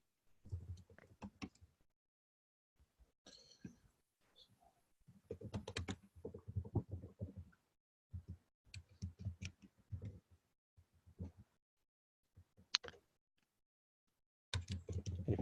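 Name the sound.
typing on a computer keyboard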